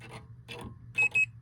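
A multimeter set to continuity gives two short, clear beeps in quick succession while its probes are raked across the lamp column pins of a Williams Fish Tales pinball board, after a few faint scraping touches.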